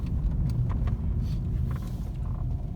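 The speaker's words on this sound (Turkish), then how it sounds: "şöyle aracımızı park edelim" A car rumbles close by at low speed as it is parked after repair work on an exhaust emission fault, a steady engine drone with faint mechanical clicks and no talk.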